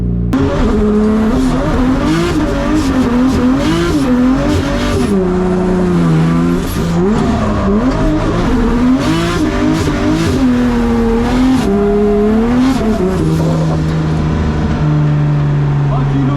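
A BMW M5 drifting on a track, with the engine revving up and down in long swells and tires squealing continuously, loud and close, while people talk over it.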